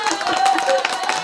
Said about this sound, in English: I want to get a big round of applause